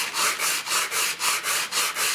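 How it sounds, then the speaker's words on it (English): Hand sanding of a wooden board game parts tray: nine even back-and-forth rasping strokes in a quick, regular rhythm, close and fairly loud. "I'm just going to sand this a little bit"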